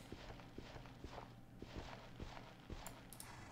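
Horse hooves in the video game Minecraft, a run of soft, evenly spaced clip-clop steps at low volume over a faint background hum, without talk.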